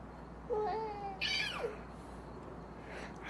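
A young child imitates a cat, giving a couple of drawn-out, rising-and-falling meows close to the mic, with quiet room noise between them.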